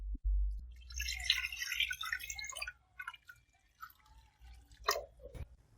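Water is poured into a pot of cut chicken pieces for boiling, a brief splashing pour followed by a few quieter drips and small kitchen clatters, close and fairly faint.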